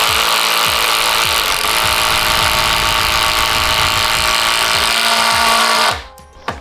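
A power drill whirs loudly and steadily for several seconds as it drives a screw, then stops abruptly.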